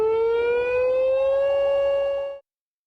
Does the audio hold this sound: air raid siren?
yes